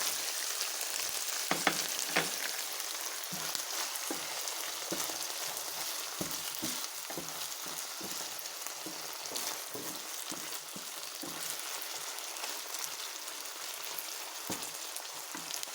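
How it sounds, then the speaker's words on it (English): Mushrooms fry in a pan for a pasta sauce, a steady close hiss of sizzling oil with scattered crackles and occasional stirring scrapes, no voices over it. "And I'm going to add the mushroom"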